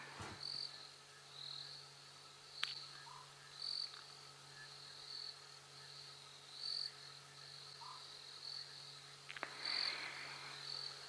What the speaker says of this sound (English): The crickets, the frogs are starting to all chirp.